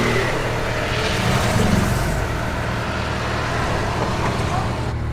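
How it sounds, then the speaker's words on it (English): A Citroën GT supercar engine running close by, a loud, steady, rumbling drone with strong low-end throb that holds without a break for several seconds. "This is the most anticipation I've had before starting a car, ever."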